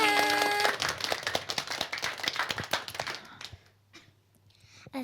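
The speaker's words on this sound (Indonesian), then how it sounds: "Wah, tepuk tangan dong adik-adik." Schoolchildren at an Indonesian Islamic primary school clap together in a burst of quick, loud applause that thins into scattered claps and fades after a few seconds.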